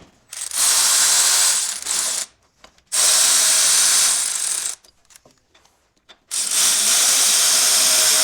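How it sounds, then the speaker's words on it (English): An impact gun spins lug nuts onto a wheel in three loud bursts of rapid rattling, each lasting about one to two seconds with short silent gaps between them, close up with no talk. "I'm just going to get them running a little bit with the gun"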